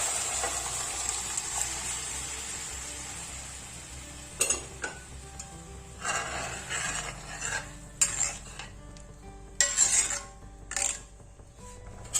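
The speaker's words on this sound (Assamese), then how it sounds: "এইখিনি অকমান ভাজি লৈ এতিয়া দালিখিনি ইয়াতে দি দিম।" A spoon stirs and scrapes in a pan while cumin seeds sizzle softly for dal tempering, with a few sharp metallic clinks and taps spread across the stretch.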